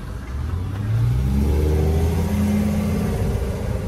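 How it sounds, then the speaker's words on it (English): A diesel truck drives past outdoors, its low engine rumble swelling and holding steady as it passes close by, loud and continuous with no talking. "Sorry, a truck just drove by."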